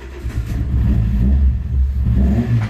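A car engine starts up after a gearbox replacement and settles into a loud, close, rough idle with a low, mid-pitched rumble and slight revving swells, with no talking.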